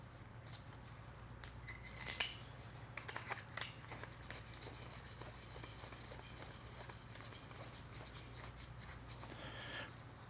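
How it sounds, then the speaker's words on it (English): A grease gun for an ASYMTEK Spectrum II dispensing system being screwed together by hand: faint scraping and rubbing of metal threads with a few sharp clicks and taps, close and quiet. "To put it together, just a matter of thread it together."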